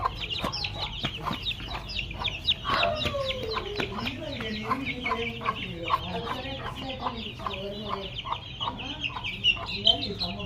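Fighting chickens cluck steadily and close by, a busy overlapping chatter of clucks and short calls continuing throughout.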